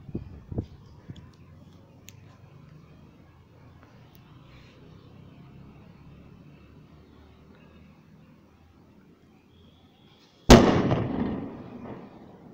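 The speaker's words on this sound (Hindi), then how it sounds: "तो यहाँ पर हमने रख दिया अपना रावण बम, जलाते हैं अब और भागते हैं।" A Ravan bomb firecracker set off outdoors goes off in one loud, sharp blast near the end, ringing out and decaying over a couple of seconds after a long stretch of quiet background noise and a few faint knocks.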